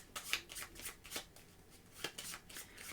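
A deck of Wyrmspan board game cards is riffled and shuffled on a table, producing quiet, rapid papery flutters in several short bursts, with no talking.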